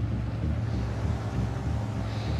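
Wind roars across a boat heading into it off Antarctica, with a steady low rumble of engine and hull under broadband gusting noise that stays constant throughout, and no voices.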